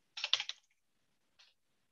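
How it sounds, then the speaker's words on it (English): A command is typed on a computer keyboard: a quick cluster of crisp, close key clicks, then a pause and a single final keystroke. "all you need to do is you just type Jupyter server list"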